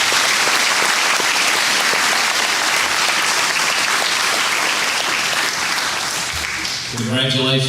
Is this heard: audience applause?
yes